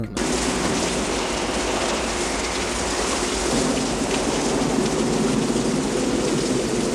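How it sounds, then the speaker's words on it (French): Heavy rain pours steadily and loudly throughout the final fight of the 1989 film Cyborg, a dense continuous wash with a low rumble beneath that suggests thunder. "Bref, il arrive la confrontation finale avec Fender. Finale, super sous la pluie mec"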